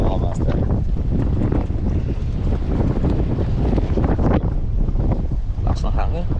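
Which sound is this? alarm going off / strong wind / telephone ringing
strong wind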